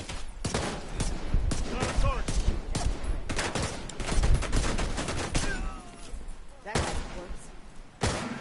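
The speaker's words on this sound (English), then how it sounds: "He must be shooting me with a shotgun." Heavy gunfire in The Division 2, including shotgun blasts, comes as loud, dense bursts of shots with a few short pauses, while someone talks over the fight.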